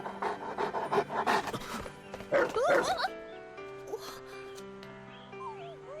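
An anime stray dog with a collar pants and yips in quick, breathy bursts, followed by soft background music with tonal notes.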